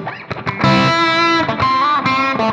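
Electric guitar played through a Fractal FM3 modeler with delay and a room reverb, a few distorted notes and sustained chords ringing out close and loud with a short ambient tail.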